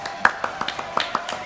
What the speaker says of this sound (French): Applaudissements pour Ludo.